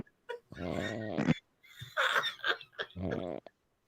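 Repeated wet, fluttering snorts push through the nose in short bursts separated by brief pauses, close and fairly loud, with a raspy, wheezing quality.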